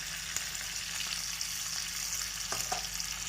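A tempering of green chillies and curry leaves crackles in hot oil for dhokla, a steady close sizzle broken by a few sharp pops and spits.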